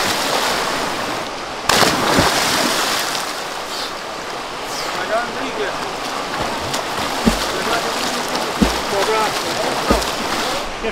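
Fast, turbulent river water rushes below a campsite as a loud, steady roar with a few sharp knocks and splashes breaking through.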